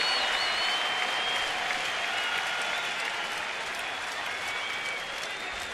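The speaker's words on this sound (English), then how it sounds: "Crowd into it here in the first." A baseball crowd at a Dodgers vs Nationals game in Washington applauds and cheers in the first inning, a loud, sustained wash of clapping and voices that fades slightly toward the end.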